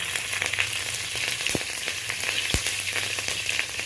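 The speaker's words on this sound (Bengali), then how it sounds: "আর এরই সাথে আমি চেরা কাঁচা লঙ্কাগুলো দিয়ে দিলাম" Bengali five-spice and slit green chilies hitting a little hot oil give a constant, close frying sizzle like light rain, with two sharp clicks from the pan midway.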